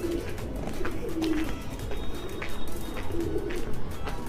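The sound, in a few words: pigeons cooing in a rooftop loft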